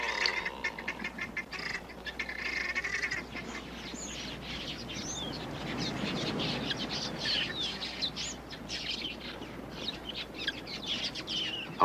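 A flock of small quelea birds chatters and chirps busily around an African waterhole, a dense continuous wash of bird calls at moderate distance with no talk.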